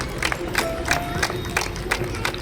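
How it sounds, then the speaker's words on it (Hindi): A ceremony audience applauds loudly, with rhythmic, evenly spaced claps from many hands in a close, steady pulse and a crowd murmur underneath. "जोरदार तालियां हैं"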